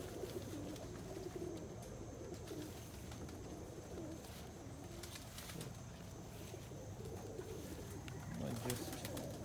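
Pigeon-like cooing from a young bird returning to its spot, soft low coos repeated at a moderate distance over a constant background rumble, with a faint voice nearby.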